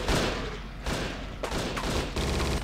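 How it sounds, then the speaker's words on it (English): Gunfire in the game Judge Dredd vs. Death, a dense run of rapid shots in several bursts, fairly quiet overall with no talking. "Shot the guy right in the jaw."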